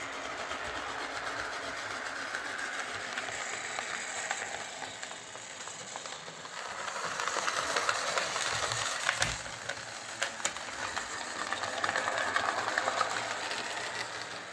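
The small electric motor of a Replica Railways Class 45 model locomotive whirs steadily with a faint mechanical rattle, running continuously and growing a little louder partway through.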